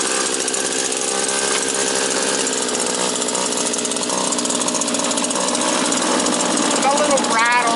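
The engine of a scratch-built 1934 Coupe runs as a loud, rapid, rattling idle that holds steady, and a voice speaks briefly over it near the end.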